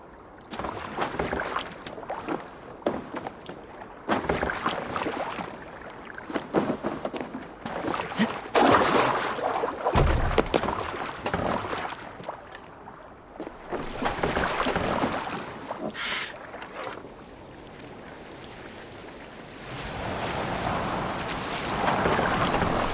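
A boat moves across open water in Assassin's Creed Valhalla, with surging wash and wind gusts rising and falling over about twenty seconds, loud and close, with no talk.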